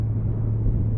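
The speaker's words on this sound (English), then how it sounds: "I've still got quite a lot of engine braking, so if I roll off the throttle, it's still slowing the bike down quite significantly" A Honda CB650R motorcycle engine on a town and country ride, throttle rolled off and engine braking: a steady, loud, low droning rumble with no talking.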